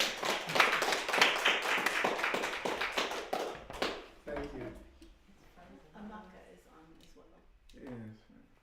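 Audience clapping for musicians after a Nigerian folk stories and music session, a burst of many hands clapping loudly for about four seconds, then fading out as people start talking quietly.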